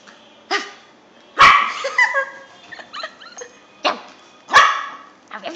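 Small dog barking in several sharp, high yips spread across the clip, fairly close, with short pauses between bursts.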